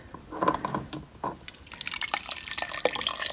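Hot glass canning jars are lifted one by one out of a boiling water bath, with close drips, splashes and streams of water running off, plus light clinks of metal and glass.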